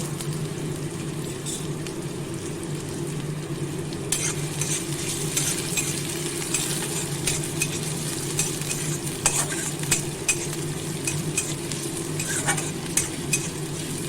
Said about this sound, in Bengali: তেল গরম করে নিয়েছি শুকনো লঙ্কা রসুন দিয়ে দিলাম তেলে প্রথমে এর মধ্যে আমি পেঁয়াজ কুচি দিয়ে দেবো দিয়ে ভালো করে ভেজে নেব